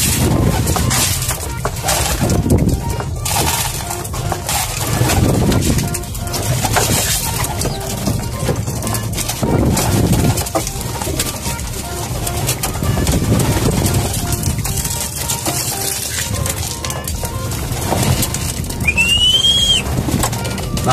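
Pigeons coo in low, throaty murmurs amid rustling and scattered flapping, close by, with a continuous busy background.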